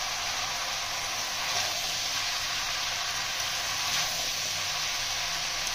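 Vegetables with eggplant sautéing in a pan, giving a steady, dense sizzle with no break and a faint background hum, and no voices.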